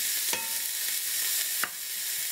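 Red and green bell peppers and small cored tomato hit a hot pan for chicken shawarma, giving a loud steady sizzle close up with a couple of sharp stirring scrapes.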